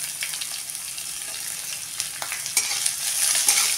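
Sliced onion and garlic cloves sauté in a hot pan with oil, giving a steady close sizzle and hiss, with a few soft stirring scrapes growing slightly louder toward the end.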